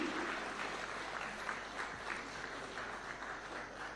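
An audience at a state tax day award ceremony applauds for a winner, a soft, even patter of many hands heard from a distance in a large hall.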